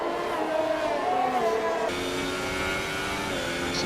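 Race cars pass at the Austria circuit with a LaFerrari coming across, a continuous loud engine drone with shifting pitch as one car hands over to the next, without speech.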